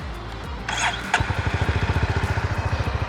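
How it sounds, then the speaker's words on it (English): A Honda CB350 RS motorcycle engine cranks briefly, then fires up and settles into a steady, deep, pulsing idle, loud and close. "So let's turn the engine on."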